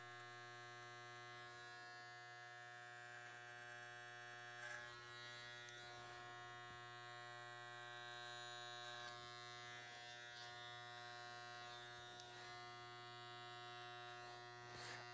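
An electric hair clipper buzzes with a steady mains-like hum while trimming fuzz from the back of a man's neck during a barber haircut. The drone is continuous and close, with faint scraping as the blade moves, and no one speaks.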